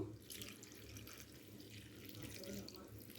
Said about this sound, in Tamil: இப்போ இன்னும் கூட கொஞ்சம் பச்சை தண்ணி ஊற்றிக்கலாம்.